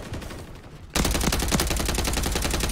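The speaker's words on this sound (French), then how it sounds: "On va tester la SMG." SMG fire in Call of Duty: Modern Warfare 3, a sustained rapid automatic burst that starts abruptly after a short quiet lead-in and stays loud and close to the end.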